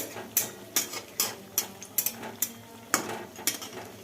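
Mughlai paratha frying in a pan, stirred and flipped with a spatula, giving a rhythmic series of about ten short, crisp scraping and sizzling strokes over a low background.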